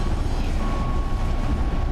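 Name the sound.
train running on rails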